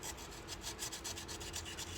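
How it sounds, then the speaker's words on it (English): Sandpaper is rubbed between the ignition points of a Farmall H tractor, making a quiet, rhythmic back-and-forth scratching with about a dozen rapid strokes close to the microphone. "just get it in there and rub it up and down. That way the points put a little pressure on the sandpaper."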